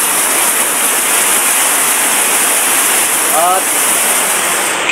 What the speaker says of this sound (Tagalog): kasi malakas ang ulan at hangin